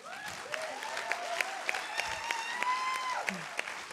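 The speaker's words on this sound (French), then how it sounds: "On applaudit Lily Besmerle." Applause and crowd noise rise from the audience at a French film premiere, with sharp individual claps and some whistling or cheering, set at moderate distance.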